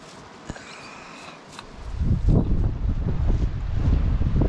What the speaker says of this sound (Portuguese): Ah, o vento não chamei.